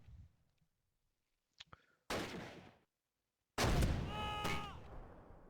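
Mortar shells strike in the war game Halten Sie den Angriff: after a quiet stretch and a faint thump, two heavy broadband blasts land, the second louder and longer with a rumbling tail, fairly close.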